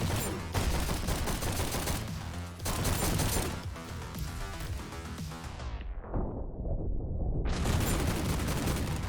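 Rapid bursts of carbine or assault rifle fire in the fast-paced shooter GTTOD (Get To The Orange Door), loud and dense, with a brief quieter muffled stretch before the shooting resumes.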